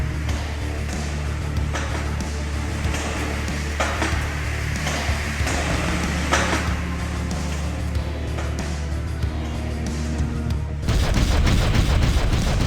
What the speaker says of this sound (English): The corner exploded. Are those Molotovs?